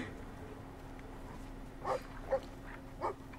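Dog in the video game Brothers: A Tale of Two Sons, giving three short bark-like yelps over a faint steady game background hum.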